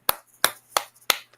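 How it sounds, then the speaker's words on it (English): Four slow, evenly spaced single hand claps, sharp and close, in a sparse mock golf clap. "That deserves a golf clap."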